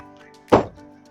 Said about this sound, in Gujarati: પછી તો આપણે હાથમાં ઉપાડી લીધો થોરનો હેમર અને ધડાકા બોલાવી દીધા.